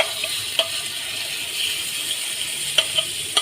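Marinated chicken pieces for tandoori chicken frying in hot oil, giving a steady bright sizzle throughout with a few sharp pops and clicks of stirring, close and fairly loud, with no voices.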